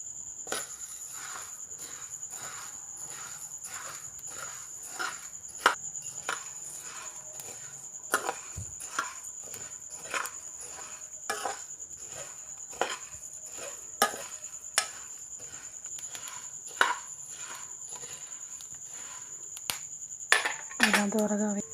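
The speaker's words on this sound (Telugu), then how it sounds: "మనం ఈ ప్యాన్లో ఇలా ధనియాలు కూడా తీసుకొని" Coriander seeds dry-roasting in a pan, giving faint scattered ticks and pops with occasional stirring scrapes over a steady background hiss.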